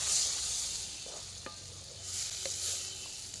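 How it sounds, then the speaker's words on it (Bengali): A spice paste with ground cumin is stir-fried in a pan with a splash of water for a Bengali crab curry, sizzling steadily close by, with a few soft scrapes of stirring. "আমি এখানে খুবই সামান্য পরিমাণে একটু জল নিয়ে মশলাটাকে কষিয়ে নিচ্ছি"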